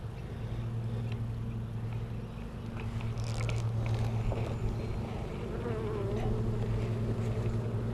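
Honeybees buzz in a dense, continuous drone throughout an open hive inspection, close and steady with a low hum underneath and no voices.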